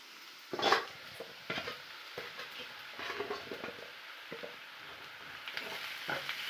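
Small chopped pieces of pre-boiled liver fry with sautéed onions in a pan: a faint, steady sizzle broken by soft scraping stir strokes every second or so, heard up close and quiet, with no talking.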